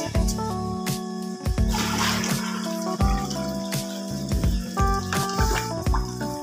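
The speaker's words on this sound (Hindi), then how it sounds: "ये सारा पानी तो नाली में जा रहा है।" Water flowing and dripping into a household drain near a kitchen, a steady wet trickle with irregular splashes and drips, mixed with a busy, cluttered background of other noises.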